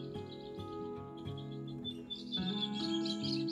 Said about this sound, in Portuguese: Não sei se vocês ouvem os passarinhos.